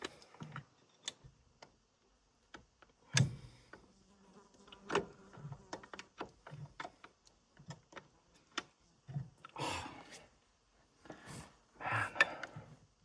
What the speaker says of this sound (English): I don't know if it comes off on camera, but there is a lot of bugs here.